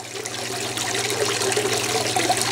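Water tinted with green food coloring dye runs and splashes over a silicone surface, making a steady broadband hiss and patter that stays even and close with no one talking.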